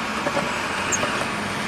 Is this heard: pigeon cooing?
no